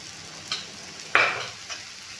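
Besan stirred into a simmering vegetable curry over low heat, a quiet background sizzle broken by a few short scrapes of the spoon, one sharper stroke in the middle.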